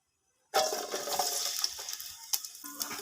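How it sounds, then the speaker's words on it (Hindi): Onions dropped into a pan of hot oil for peas pulao, starting with a sudden sizzling burst after a brief silence, then a fizzing crackle that slowly eases, with a few clinks of a utensil. "2 अदद हम इसमें प्याज डालेंगे।"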